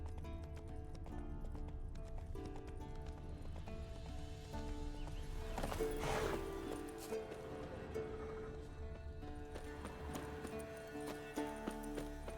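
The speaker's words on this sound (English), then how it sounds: "That's his horse." Horse hooves clip-clopping in Witcher 3, a steady rhythmic trot heard at low level over game music, with a brief louder burst midway.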